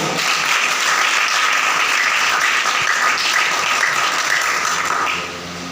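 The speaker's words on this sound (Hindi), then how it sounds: "जरा तो जोर नाल ताली बजाओ।" A church congregation clapping loudly and continuously during a sermon, a thick, even wall of applause that holds strong and then drops in level just before the end.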